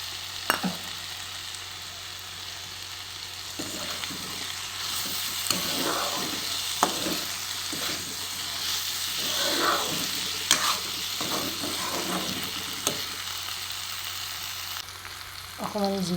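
Green chilies, ginger and garlic fry in a pan for a taro and masoor dal curry, a steady sizzling hiss punctuated by occasional stirring scrapes and clinks.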